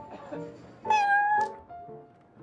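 Little Prince, the cat from Genshin Impact, lets out a few soft meows, the middle one a longer, clearer, rising call, close and unaccompanied by speech.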